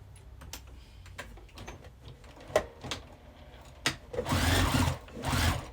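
Sewing machine stitching a tea bag wallet, with scattered clicks and taps of handling followed by two bursts of rapid motor-driven stitching, close and fairly loud.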